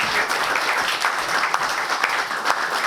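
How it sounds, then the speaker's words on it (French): Staff of an industrial establishment applaud a visiting minister, a steady, even wash of many hands clapping close by, filling the short stretch without pause. "de vous applaudir"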